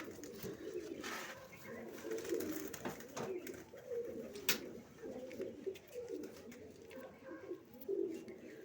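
Pigeons coo softly and repeatedly at close range in a loft of large breeding pairs, low murmuring calls over a quiet background with occasional sharp rustles.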